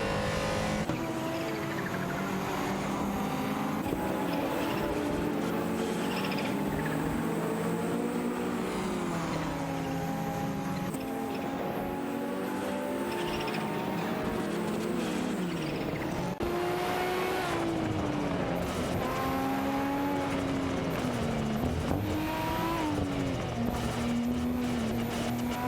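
Race cars in an AI racing video game, including a Ferrari 288 GTO, drone continuously with overlapping engines revving up and down through gear changes and occasional tire squeal, loud and sustained with no talking.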